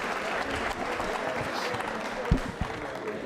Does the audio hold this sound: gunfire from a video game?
no